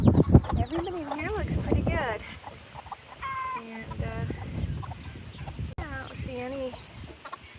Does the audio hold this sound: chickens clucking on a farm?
yes